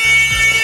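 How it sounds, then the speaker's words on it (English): A loud, steady electronic alarm tone plays on its own for under a second, nearby, with no talking. "It's even got an alarm."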